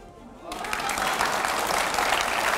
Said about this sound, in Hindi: अब यहां पर जो तालियां बज रही हैं